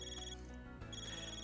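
A telephone ringtone from the video game Trails Beyond the Horizon, a short electronic ring that repeats twice, clear and steady over soft game background tones.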